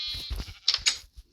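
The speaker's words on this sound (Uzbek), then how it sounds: "Namuncha ko'p qo'ylar." Several sheep bleat in a video game, a couple of short close bleats in quick succession with no talk over them.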